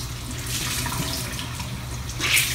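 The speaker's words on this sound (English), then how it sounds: "Rinse it until you don't see any more gunk or foundation." A makeup sponge is rinsed under a running bathroom tap, a steady hiss of flowing water with soft splashing and squishing, close and alone.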